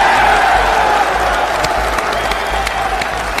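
Audience at a far-right political conference breaks into loud, sustained applause and cheering, a dense crowd roar holding steady throughout with scattered sharp claps poking through.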